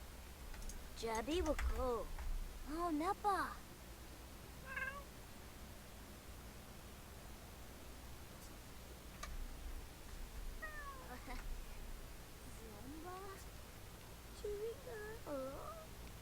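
Cats meow several times in The Sims 4, with bright, wavering calls clustered early and again near the end, set over a quiet background with soft clicks.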